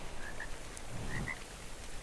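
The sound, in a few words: Beelzebufo frog croaking in the video game ARK: Survival Evolved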